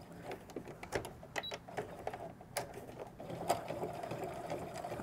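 A sewing machine stitches forward through thick handbag material of cork and canvas or quilting cotton, its motor running in uneven bursts with rapid needle clatter as it is pushed along, close and moderately loud.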